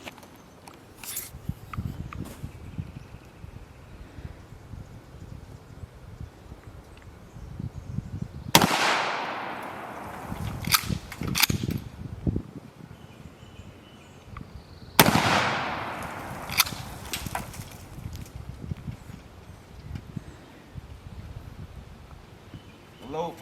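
Two loud, sharp gunshots ring out several seconds apart, each followed by a decaying echo, amid quieter background noise and scattered handling clicks.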